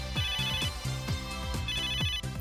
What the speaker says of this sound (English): That's my end gear's ringtone